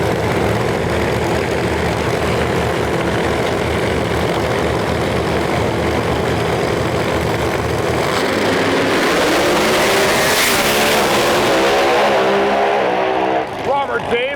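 Pro Mod drag race cars at qualifying, with a loud continuous engine roar that swells to a peak late as cars run down the track, one suffering tire shake, commentary running over it.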